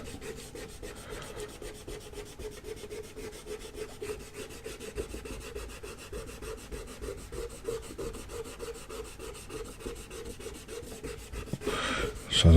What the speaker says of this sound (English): The only thing I can do is just try and erase all of that out.